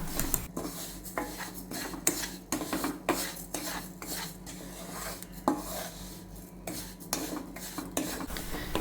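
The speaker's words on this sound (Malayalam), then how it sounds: "ഇനി ഇതിലേക്ക് ഒരു ഇരുന്നൂറ് ഗ്രാം പഞ്ചസാര കൂടി ഇട്ട് കൊടുക്കാം എന്നിട്ട് നമുക്കിതൊന്ന് നന്നായിട്ട് ഇളക്കി യോജിപ്പിച്ചെടുക്കാം" Sugar being stirred into rava roasted in ghee in a pan: repeated scraping strokes and light clinks of a spoon against metal, close and fairly even in rhythm, with no voices.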